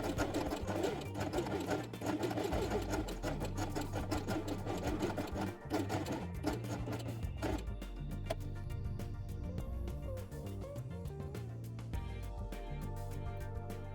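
A sewing machine stitches along marked lines on fabric for a doll house quiet book, a rapid, steady mechanical chatter running close and unbroken throughout.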